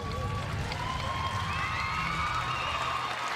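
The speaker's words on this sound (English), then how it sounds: "big cheer, lots of Swedish flags" A crowd cheers steadily at a dressage world breeding championship for young horses, with many Swedish flags in the stands, as a rider finishes a test. The roar is dense and continuous throughout.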